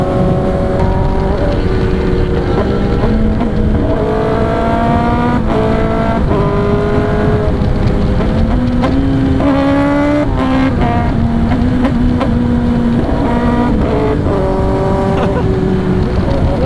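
Kawasaki ZX10R sport motorcycle ridden at speed, engine held above 4,000 RPM, a loud continuous roar rising and shifting in pitch through repeated gear changes, with wind buffeting and a voice talking faintly underneath.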